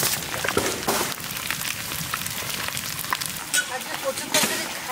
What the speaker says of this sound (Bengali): ফোড়নে নিছি রাঁধুনি, জিরা, তেজপাতা আর গোটা শুকনো লঙ্কা